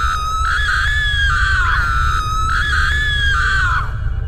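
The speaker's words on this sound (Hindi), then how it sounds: "वो चुड़ैल चिल्ला रही होती है।" A witch in an animated horror story screams loudly in two long, shrill, wavering cries, each sliding downward in pitch before breaking off, close and piercing over a low background rumble.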